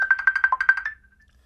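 A Zoom call ringtone chimes in a quick run of about nine bright, evenly spaced electronic pulses, then cuts off into near silence.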